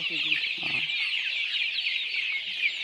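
Young chicks on a local poultry farm keep up a dense, steady chorus of high cheeping. Low clucks from chickens and a brief human voice are heard near the start.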